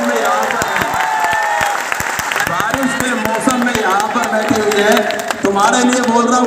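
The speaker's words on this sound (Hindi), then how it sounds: "एक बार भाई जोरदार तालियां इनके लिए बजाओ" Loud audience applause in a large hall in Patna, many hands clapping hard and continuously, with shouts, cheers and voices mixed throughout.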